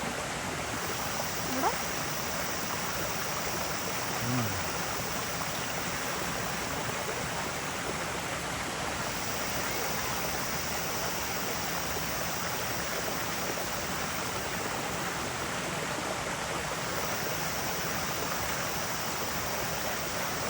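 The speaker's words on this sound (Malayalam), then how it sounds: "ഈ വാട്ടർഫോളിൽ വെള്ളം കുറവാണ്" A waterfall in Valparai with low water flow gives a steady, broad rushing wash that continues evenly for twenty seconds, with only a couple of faint brief knocks over it.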